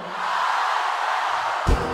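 Thousands of festivalgoers at an outdoor Rock Werchter concert yell back in unison, a dense, steady roar of crowd voices lasting under two seconds and ending with a low thump.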